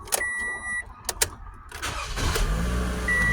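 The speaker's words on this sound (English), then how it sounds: "But then you start the car," A Toyota Camry engine cranks and catches after a few chimes and clicks from the cabin, then settles into a steady close idle, with no talking.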